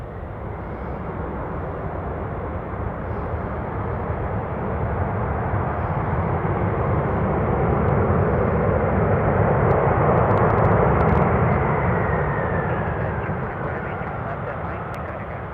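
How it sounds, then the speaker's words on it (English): A Boeing 747 touching down on runway 15 at Anchorage airport, a broad steady jet roar that swells to a peak midway and slowly eases, heard from a distance under a faint background voice. "747, touching down, runway 15"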